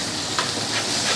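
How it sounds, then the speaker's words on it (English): Onion, carrot and celery frying in a pan, a steady close sizzle and hiss with a faint stir partway through, alone with no voices. "And we're just gonna fry that."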